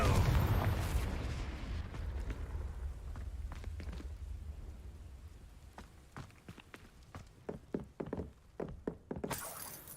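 Confringo fire spell from Hogwarts Legacy: a loud fiery blast at the start that fades into a long rumbling decay, followed by scattered sharp thuds and crackles at close range, with no talk.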